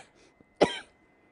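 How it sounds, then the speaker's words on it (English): A single sharp, close cough bursts out from one person, brief and forceful, followed by quiet. "And I'm still having coughing fits."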